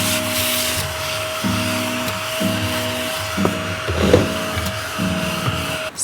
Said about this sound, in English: I'm gonna grab my little desk vacuum and vacuum up all the little clay